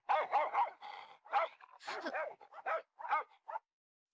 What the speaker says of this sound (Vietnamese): Con Nina nó sủa, có nghĩa là con ma đang ở trong này phải không anh?